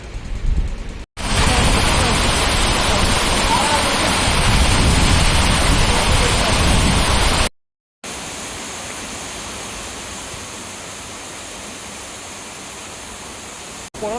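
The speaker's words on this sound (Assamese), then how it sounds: "বৰষুণ।" Steady, loud rain in Cherrapunji hisses continuously, broken by a sudden cut, then continues more softly as a constant wash of noise.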